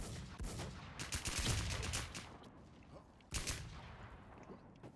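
Bursts of rapid gunfire from the video game WarZ, several volleys with a sharp crack near the end, fairly quiet overall.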